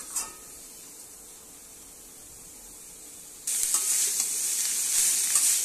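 Stirring and frying banana stem in a wok: a faint scrape, then a sudden loud, bright sizzle that bursts up and keeps hissing steadily, close by.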